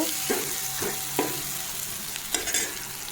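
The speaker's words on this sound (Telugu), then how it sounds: "వేసేసుకొని కలుపుకోవాలండి సిమ్లో పెట్టి ఉడికించుకోవాలండి" Dry fish curry with chilli powder cooking in a pan over low flame, with a steady soft sizzle and a few distinct scraping stirs of a spoon at intervals, no talking.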